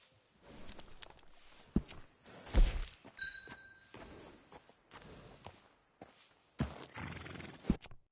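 Horse whinnies and hoof thuds in Red Dead Redemption 2, the game's stable scene mixed with footsteps and knocks; one loud neigh stands out midway among scattered thumps, all fairly faint.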